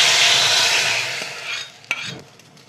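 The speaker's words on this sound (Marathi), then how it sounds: "आता रस्समला मस्त चुरचुरीत अशी फोडणी देऊन घेऊया" A hot tempering of asafoetida, turmeric and curry leaves hits drumstick and tomato rasam in a loud burst of sizzling that quickly fades. A single metallic clink follows near the end.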